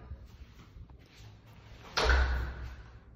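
The upgraded front door of a new-build house gives a single solid thump partway through, heard clearly over a quiet room background.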